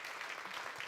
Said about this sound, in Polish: wielkie brawa, zapraszam serdecznie na scenę